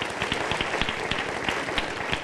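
A church congregation claps in praise during a Spanish-language sermon, a brisk, irregular patter of many hands at moderate volume, heard alone.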